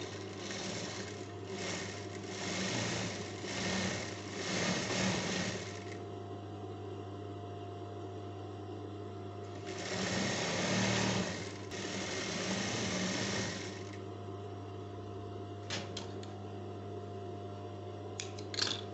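A sewing machine runs in bursts while stitching the sleeve of a Turkish dress, two longer runs of steady mechanical whirring over a constant low hum, with quieter pauses between them and no talk.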